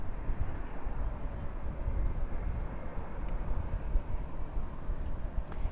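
A Qatar Airways Airbus A350-1000 jet at Dallas/Fort Worth airport at night gives a steady, moderately loud broadband roar that holds evenly throughout, with no talking.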